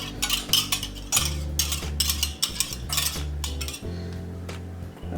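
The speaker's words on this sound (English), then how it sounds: "use my whisk to get the rest of this stuff out of here" A metal whisk scraping and clinking against a bowl to get out the last of the melted butter for sweet cornbread, quick irregular rattling taps and scrapes close up, with a low steady hum underneath and no talking.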